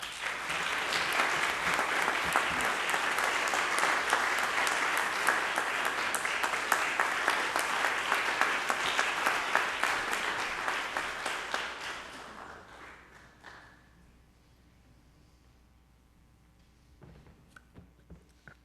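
A church congregation applauds a scholarship recipient, a dense, loud burst of clapping that holds steady for about twelve seconds and then thins out to a few scattered claps.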